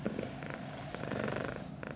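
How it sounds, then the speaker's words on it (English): A pet cat named Emma purrs softly and continuously up close, a low rhythmic rumble with faint rustling around it. "And Emma's so excited, she's purring."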